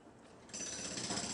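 Jackhammer breaking ground on a tramway construction site, a dense mechanical rattling that starts abruptly partway through and continues steadily, moderately loud and heard alone.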